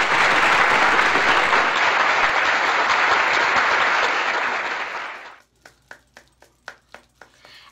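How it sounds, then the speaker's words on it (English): Applause from a group rises as a dense, loud burst of clapping that fades out, followed by a handful of separate sharp claps trailing off. "round of applause, ladies."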